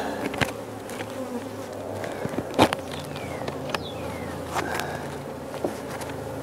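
Honey bees buzz around an open hive in a steady, close, dense drone, with a few louder individual bees passing near and faint handling knocks, no talk.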